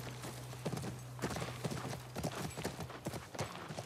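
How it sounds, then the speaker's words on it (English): Horse hooves clop in an uneven walking rhythm in the video game The Last of Us Part I, a series of distinct soft thuds over a faint low hum. "That's our horse."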